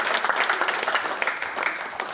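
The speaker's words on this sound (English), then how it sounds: "Please, a round of applause for her" Attendees at a Town Planners Day workshop of the Nigerian Institute of Town Planners, FCT Chapter, clap for a woman, a lively crackle of many hands, close and continuous for a couple of seconds.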